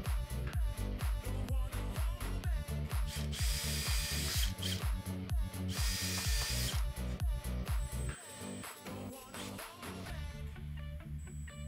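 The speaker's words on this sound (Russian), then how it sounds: "делаем небольшое рассверливание" A power drill bores holes into a wooden block clamped in a vise, a loud continuous whirring with rhythmic pulses of load as the bit bites into the wood, steady throughout with no talking.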